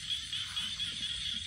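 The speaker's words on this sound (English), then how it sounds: "Yes, I got a lot of small frog." Small frogs croaking by a mountain creek, a faint, continuous chorus of high, buzzy trills with no voices.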